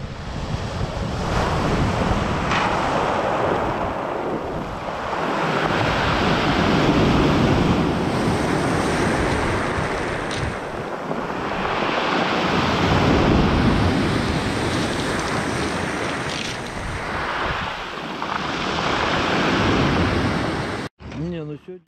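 Sea waves roll onto the beach at Lazarevskoye near Sochi at the end of winter, surging and receding in a steady, fairly loud wash with some wind noise.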